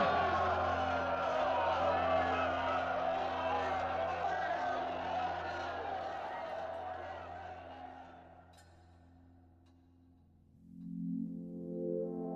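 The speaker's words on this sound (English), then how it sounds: "Now they're all cheering him, and the whole crowd have raised their right arm." A vast stadium crowd at the 1936 Berlin Olympics opening ceremony roars in a sustained, distant wash of cheering for Hitler, heard on an old archival recording. The roar fades out toward the end and gives way to a low tone.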